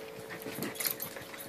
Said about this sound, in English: why don't you put him down and we'll watch him play a little bit with the other dogs